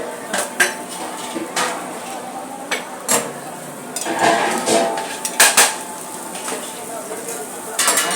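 Pans and utensils clatter loudly while a cook prepares onion dosa at a snack stall, with repeated sharp metal clinks and scraping bursts and some sizzling underneath, plus faint background voices.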